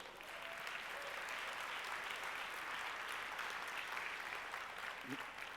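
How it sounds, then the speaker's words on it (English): Applause at a conference welcome session, a steady even wash of clapping from a large audience, sustained and fairly distant, ending with a brief voice at the close. "Let's give them a round of applause."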